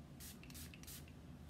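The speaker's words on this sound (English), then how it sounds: "Yeah, I'm just gonna put some in my hair because it feels like a dry oil mist" A bottle of dry oil hair mist from a beauty box gives three quick, fine spritzes in close succession, soft, airy hisses heard close and alone.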